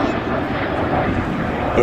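A 1955 Swiss-built de Havilland Venom vintage jet, ex-Swiss Air Force, passes overhead with a steady, broad roar that stays loud and even throughout; a voice speaks faintly beneath it.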